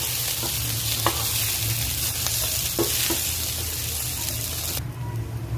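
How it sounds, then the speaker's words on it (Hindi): Ingredients for chilli chicken gravy sauté in a hot pan, giving a loud, continuous sizzle with occasional stirring scrapes, close by, before the hiss cuts off near the end. "ग्रेवी बनाने के लिए इसको हम थोड़ा सा सौते कर लेंगे।"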